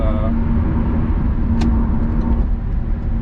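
Steady low rumble of an NB Mazda Miata cruising at 60 mph, with constant road and wind noise inside the cabin.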